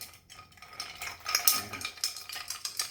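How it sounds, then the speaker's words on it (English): A bar spoon swirls ice in a glass while a Revolver cocktail made with Bulleit bourbon is stirred, producing soft close clinks and rattling in quick irregular bursts. "And we are going to stir."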